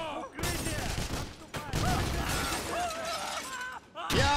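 Gunfire and shattering bursts in the Wolfenstein video game, a dense near fusillade of shots with short gaps, mixed with game voices and mechanical clatter.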